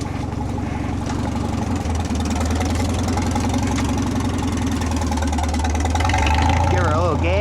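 A tractor engine runs in third gear while rolling downhill, a loud, continuous low rumbling drone close by with a slight rhythmic knock and no pauses.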